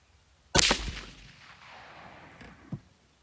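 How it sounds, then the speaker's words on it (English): A single loud gunshot from a CVA Scout pistol chambered in 6.5 Grendel, fired outdoors, with a sharp crack followed by a long fading echo and a faint distant thump near the end. "just something to try the first shots out and just see how she's going to fire."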